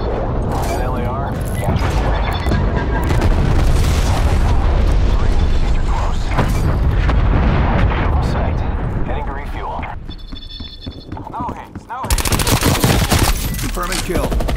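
Napalm strike in Call of Duty Black Ops Cold War ground war: a dense barrage of loud explosions and roaring fire with gunfire mixed in, sustained and close, dipping briefly before another heavy blast, with voices talking under it.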